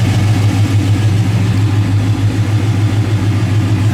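A 1966 Chevrolet Chevelle restomod engine idles steadily up close, a low, even rumble with a slight pulsing throb and no voices.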